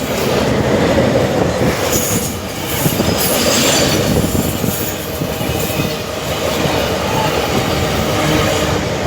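A long train rolls past close by, a loud continuous roar of wheels and carriages with faint squeals, unbroken for the whole stretch.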